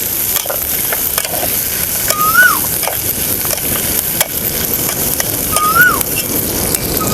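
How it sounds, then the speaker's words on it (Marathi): Green chili and onion sautéing in a pan, a steady close sizzle with repeated spoon scrapes and stirs across the bottom, a short whistle-like squeak sounding twice above the frying. "आत्ताच थोडंसं आपण ना परतून घेऊया मिरची कांदा वगैरे"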